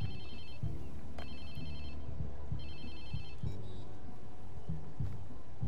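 A cellphone rings in the video game Watch Dogs 2, sounding as a few bursts of electronic ringing over a busy backdrop of game ambience and low engine-like rumble, fairly quiet in the mix.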